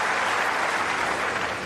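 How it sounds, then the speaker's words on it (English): Sustained applause from a large crowd at the Australian Open tennis final, broad and steady throughout with no talking, fading slightly at the end. "Crowd appreciating his effort."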